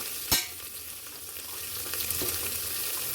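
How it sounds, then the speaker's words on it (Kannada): Spices with turmeric and garam masala fry in a pan as a loud close sizzle, with a sharp clank at the start and continuous stirring scrapes afterward, and no voices. "ಒಂದು ಸ್ವಲ್ಪ ಗರಂ ಮಸಾಲೆ, ಇದನ್ನು ಚೆನ್ನಾಗಿ ಫ್ರೈ ಮಾಡಬೇಕು"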